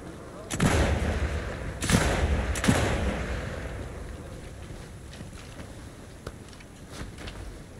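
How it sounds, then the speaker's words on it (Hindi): Grenade and gunfire blasts in the World War II shooter Sniper Elite 5: three heavy booming explosions in quick succession, followed by a fading rumble and a few scattered fainter shots, with no voice over them. "वाह, ग्रेनेड।"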